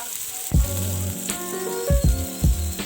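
Garlic and onion drop into hot oil for a samosa filling, setting off a loud close sizzle that flares with each addition, in two or three quick bursts over a steady frying hiss.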